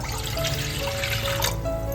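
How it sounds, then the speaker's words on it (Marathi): Water pours steadily into a cup for sugar syrup in a home kitchen, a continuous soft trickle and splash heard close and alone, with no one talking. "इथे आपण कपामध्ये पाणी घालून घेतोय"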